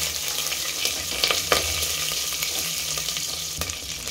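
Spices, bay leaves and green chilies crackle and sizzle in hot oil in a pan as they are stirred, a steady loud frying hiss with sharp pops, no talking.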